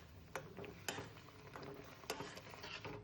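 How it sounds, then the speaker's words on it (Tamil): Beaten rice flakes are stirred into melted jaggery in a pan, with faint scraping strokes and soft ladle taps at an uneven rhythm, quiet and close. "இந்த பொடிச்ச வச்சுருக்கிற அவலை இதில் சேர்த்து கிளறணும்"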